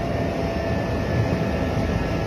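A passenger airplane lands at Sentani, Papua, and a steady, broad engine roar and cabin rumble fill the whole stretch. The noise is loud and constant, with no talking.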